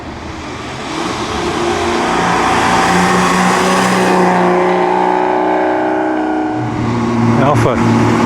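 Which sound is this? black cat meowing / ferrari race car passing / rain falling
ferrari race car passing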